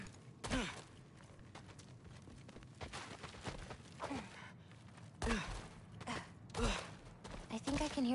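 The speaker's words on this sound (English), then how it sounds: "I think I can hear something breathing near the back of the cell" A creature breathing in a cell in God of War, heard as slow, heavy gasps and groaning exhales in a repeating rhythm, somewhat distant and quiet, over low game ambience.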